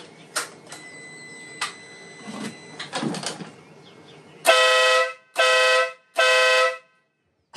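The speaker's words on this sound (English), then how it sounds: "this is going to be the first test of the horn" A ProBeast aftermarket air horn fitted to a motorcycle gives three loud, sustained blasts, each about half a second long with short gaps between them. Quieter handling clicks and rustling come before the blasts.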